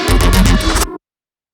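A synth loop with a lead synth line plays loud and dense, pulsing in a steady rhythm before cutting off abruptly, with no voices.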